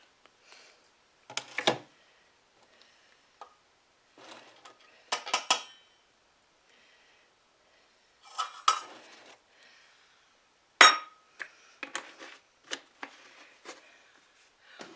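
A spoon clinks and scrapes against a mixing bowl in scattered bursts while vegetable oil is stirred into pumpkin bread batter in a home kitchen, with quiet gaps between strokes and no speech.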